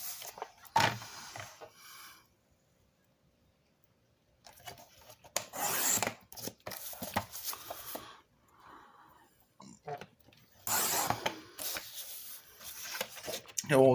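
Paper is cut for a handmade envelope box in several close, rasping strokes, in short bursts separated by quiet pauses.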